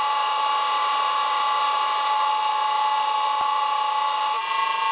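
A lathe cuts a drill chuck arbor with a worn tool whose brazed-on carbide is nearly gone, producing a steady, fairly loud high machining whine with a faint tick midway and no talking.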